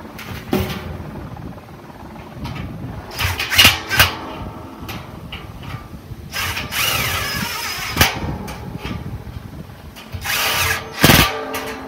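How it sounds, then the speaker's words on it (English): A DeWalt impact driver drives bolts on a steel drum smoker build, loud close bursts of whirring and rapid hammering with clanks and handling noise between runs, no talking. "so then we take our handy dandy DeWalt impact."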